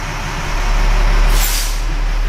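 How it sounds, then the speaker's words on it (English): A fire engine's emergency brake is pulled, releasing a sharp burst of air hiss over the steady low idle of the truck's engine, close and fairly loud with no talking. "first thing we're going to do is pull the emergency brake"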